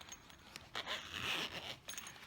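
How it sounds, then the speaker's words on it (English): A zipper on a knife's pouch case is drawn open in one continuous pull lasting about a second, close and fairly quiet, with small handling rustles before and after. "those are going to come in a zipper pouch case like this"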